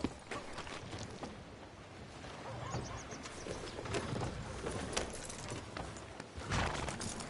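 Horse hooves clip-clop on a street in the video game Red Dead Redemption 2, a close, irregular stream of hoof strikes mixed with an occasional snort or whinny and soft background ambience.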